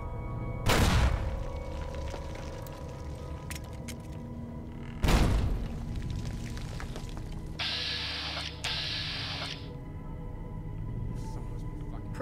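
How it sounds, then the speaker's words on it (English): Two loud grenade explosions land several seconds apart in Fallout: New Vegas, each with a sharp boom and a low rumbling tail, and a hissing mechanical burst sounds between them in the background. "Grenade!"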